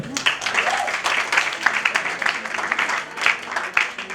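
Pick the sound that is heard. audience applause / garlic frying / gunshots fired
audience applause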